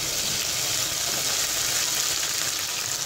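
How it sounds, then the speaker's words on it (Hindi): Onions frying in a pan with ginger garlic paste for a bitter gourd masala fry, a continuous even sizzle at close range with no breaks. "प्याज को मैंने अच्छे से फ्राई कर लिया है, अब मैं इसके अंदर बाकी मसाले ऐड कर दूंगी, अदरक लहसुन का पेस्ट"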